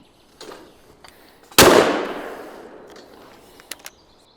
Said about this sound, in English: Finally adjust the muzzle, and then I'm ready to take the shot.